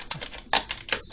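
A protective sticker peels off an XFX Radeon RX 480 graphics card in short, crackly bursts of tearing, close up, with brief pauses between pulls.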